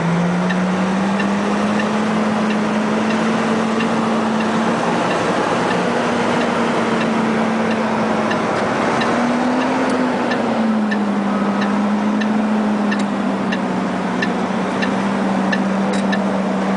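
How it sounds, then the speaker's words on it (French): A Case IH Magnum 500 tractor idles with a loud, steady engine drone while its hazard flasher ticks at a regular, even pace throughout. "Et là, vous mettez le feu de détresse."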